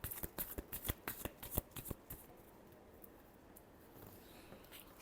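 Tarot cards shuffled in quick bursts of crisp riffling slaps, loud and close at first, then giving way to a softer, steady papery rustle.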